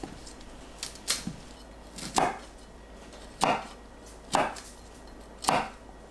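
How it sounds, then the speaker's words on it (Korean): Knife chopping washed broccoli into bite-size pieces on a board: several crisp thuds spaced about a second apart, close up, with no voices. "씻은 브로콜리는 한 입 크기로 썰어주세요."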